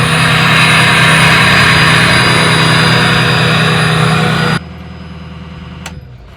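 A truck engine running at a slightly high idle roars loud and close in a steady jet-like drone, then abruptly drops to a quieter, lower rumble near the end.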